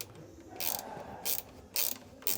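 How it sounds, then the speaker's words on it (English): Four short bursts of ratchet clicking from a wrench tightening the bolts on the cage of a Land Rover Defender 90, close by, with brief pauses between strokes and no talking. "Finishing tightly all the bolts on the cage and putting the roof in place."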